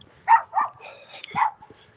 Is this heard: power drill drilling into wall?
no